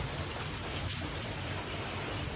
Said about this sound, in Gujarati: ખતરનાક વાવાઝોડું વરસાદ પવન